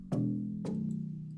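Deep, sustained bass synth from an FL Studio track with a lower-register feel, two notes struck about half a second apart and held, playing alone at moderate level.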